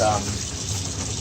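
Running tap water for rinsing film during home C41 development, a brief steady rushing hiss close by with no talking.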